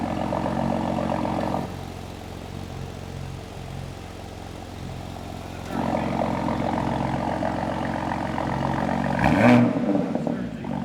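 A BMW G82 M4 Competition Jahre Edition fitted with a loud aftermarket exhaust gives a steady, throaty drone that swells in level at times, with a sharp burst near the end and voices in the background.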